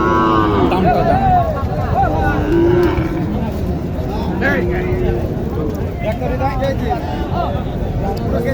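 Cattle, including Shahiwal and Indian cross bulls at a busy cattle market in Joypurhat, low repeatedly and loudly amid constant crowd babble and nearby talking.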